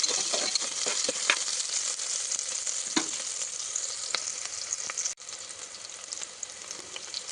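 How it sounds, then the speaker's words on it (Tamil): Small shallots and garlic sauté in hot oil in a pan, giving a steady bright sizzle with occasional clicks of stirring, close and even, no voices. "கொஞ்சம் சின்ன வெங்காயம் ஆட் பண்ணிவிட்டு நல்லா வதக்கிக்கோங்க"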